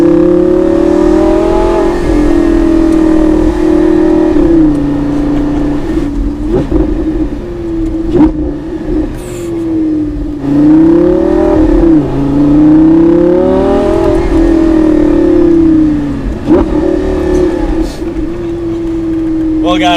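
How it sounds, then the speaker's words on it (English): A Lamborghini V10 engine revs up and down repeatedly, its pitch rising and falling in loud sweeping waves, with voices talking over it. "Never heard a V10 Lamborghini. That is insane. That is the best sounding car I've ever driven."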